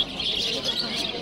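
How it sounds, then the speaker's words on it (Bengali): Cockatiels and budgerigars chirp in a dense, steady chatter of overlapping tweets at the historic pigeon market in Fatullah, Narayanganj, with a busy outdoor background. "এখানে কিছু কোকাটেল পাখি দেখা যাচ্ছে। তো বাজিগর পাখি"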